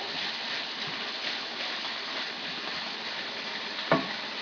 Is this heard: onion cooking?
yes